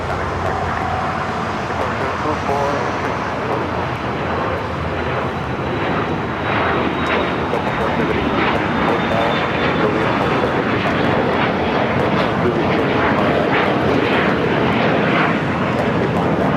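A Swiss Boeing 777-300ER arriving from Zurich at LAX, its loud engine roar building and holding steady, with a thin high whine that slowly falls in pitch, over background traffic noise.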